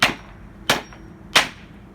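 A hammer smashes a Dreamsky DS206 alarm clock radio's speaker in three sharp, loud, evenly spaced blows, each with a quick decay.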